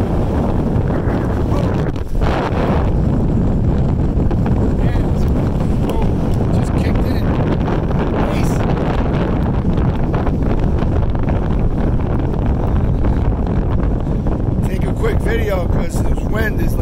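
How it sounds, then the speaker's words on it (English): Strong wind buffets the microphone in continuous gusts and rumbles at a lake in Connecticut, with talking faintly underneath. "Nice day, a little windy."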